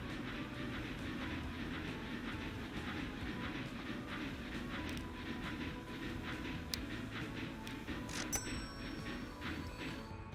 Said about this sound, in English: Alright, let's put another train on it.